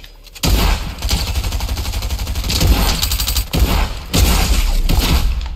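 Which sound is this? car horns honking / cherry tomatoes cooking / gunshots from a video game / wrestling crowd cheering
gunshots from a video game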